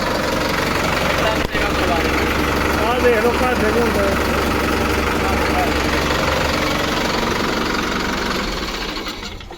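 A 4x4 tractor engine idles loudly and steadily with a low, knocking rumble, continuing for several seconds while a voice speaks briefly nearby.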